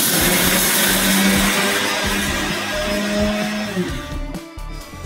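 A mixer grinder whirs loudly and steadily as it grinds roasted sambar powder, its motor pitch shifting slightly as the jar churns, then winding down in a few stuttering pulses near the end.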